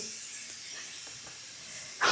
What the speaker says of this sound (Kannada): ಸೌಂಡ್ ಕೇಳಿಸ್ತಾ ಇದಲ್ಲ ಕುಕ್ಕರ್ದು